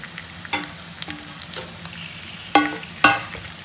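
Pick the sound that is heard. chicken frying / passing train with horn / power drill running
chicken frying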